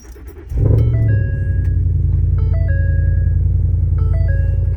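A Ford Raptor pickup truck rumbles up close as it pulls into a shed, its engine starting low and then holding a steady, loud idle drone alongside a few faint high tones.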